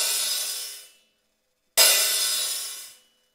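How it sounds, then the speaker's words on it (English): Two separate crashes from an early riveted sizzle cymbal with small cups on a vintage 1929-30 Leedy drum set, each a bright, shimmering wash that rings for about a second and dies away, heard alone with no talk. "This is a early sizzle cymbal or a sizzler, and it has rivets"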